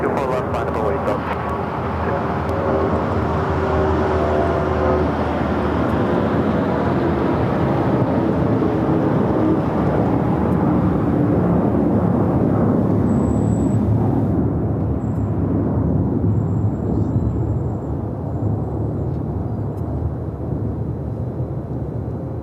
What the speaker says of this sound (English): That was Delta Airlines Flight 631 heading to Mexico City, and a 32-year-old 757-200 originally delivered to Delta in January of 1993.